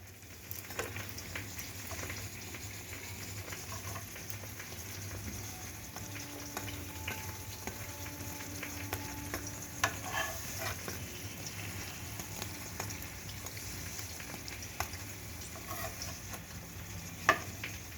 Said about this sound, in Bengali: ভালো করে দুদিকটা লাল লাল করে ভেজে নিলেই হয়ে গেল ব্রেড পকোড়া